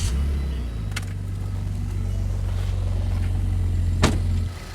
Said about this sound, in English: So there we go, we started up this twin turbo Ford Taurus. It's running smooth.